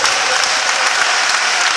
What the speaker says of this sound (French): vous êtes en train d'applaudir